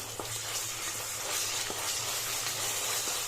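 Ginger garlic paste fries in a pan with a soft, even sizzle and hiss, a low hum underneath and a few faint ticks, continuous and close.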